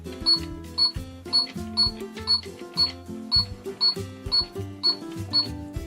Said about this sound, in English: These buttons make sounds.